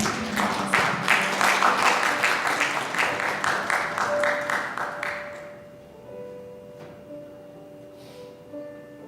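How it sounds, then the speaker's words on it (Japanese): A church congregation at a worship service claps in unison along to a song, strong rhythmic beats for about five seconds that then stop, leaving quiet music with faint sounds. "皆さん拍手を持って共に歌いたいと思います"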